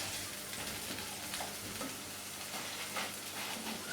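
Beef burgers sizzle in a frying pan just after being turned, a steady, dense crackling hiss of frying fat with small popping spits, close and continuous with no talking.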